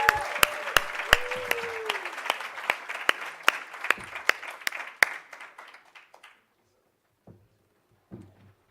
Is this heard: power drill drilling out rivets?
no